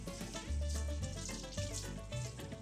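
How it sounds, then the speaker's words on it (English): Tap water runs steadily into a kitchen sink while hands are washed before cooking chicken soup, a continuous close splashing hiss with a few small surges and no voices. "I wash my hands before I cook."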